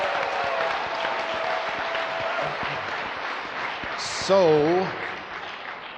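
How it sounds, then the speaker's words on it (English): An audience claps steadily at a retreat session, a broad sustained round of applause with a voice speaking briefly over it toward the end. "let's give all of them a big round of applause"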